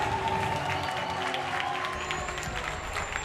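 A crowd at a Gears of War 4 esports grand final in Mexico reacting loudly, a sustained roar of many voices filling a large hall with a steady mass of noise and no single clear speaker.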